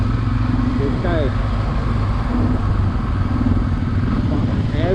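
A motorcycle cruises along the road in a steady engine drone with wind rumble, ridden alongside another rider, while someone talks over the noise.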